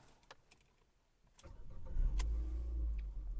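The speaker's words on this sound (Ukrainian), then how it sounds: "Давайте запустимо двигун." A 2011 Ford Fusion engine cranks and catches around the midpoint, then settles into a steady, loud low rumble close by.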